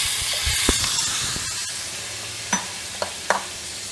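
Pumpkin pieces sizzle steadily in a hot pan, with a constant frying hiss and a few sharp clicks of stirring.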